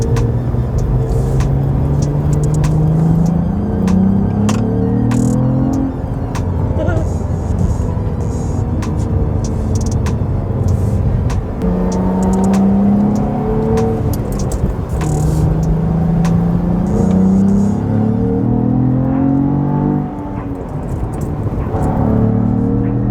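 A 2022 Cadillac CT4-V Blackwing engine accelerates repeatedly, its note rising through several gears with shifts between each climb, loud and close inside the cabin while someone talks over it.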